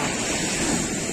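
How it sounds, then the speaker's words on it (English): Rough ocean surf at La Antilla, Huelva, Spain roars in a dense, continuous wash, with wind buffeting the microphone. No voices are heard. "The ocean is a bit violent today."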